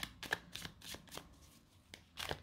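Tarot cards shuffled and dealt out for a nine-card spread, a quick run of crisp riffling swishes and soft slaps close by, with short pauses between bursts and no voices.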